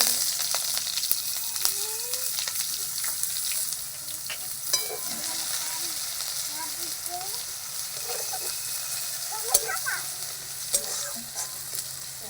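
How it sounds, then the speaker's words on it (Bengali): Sliced onion frying in hot oil with bay leaf, a dried red chilli and whole cumin for ghugni, a constant bright sizzle with occasional spoon stirs, close and continuous. "তেজপাতা আর একটা শুকনো লঙ্কা গোটা জিরে দিয়ে দিয়েছি"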